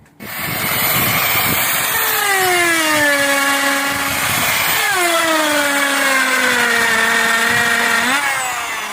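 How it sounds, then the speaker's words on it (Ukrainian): A wall chaser cuts grooves into aerated concrete blocks on a house build, a loud close whining drone with pitch sweeping down as the blade bites, running continuously without talk. "Провір мені зараз фрезу, чи потрібно купляти нову чи ні."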